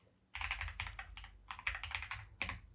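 Rapid typing on a computer keyboard, close and clear, in quick bursts of keystrokes separated by short pauses, with no voices over it.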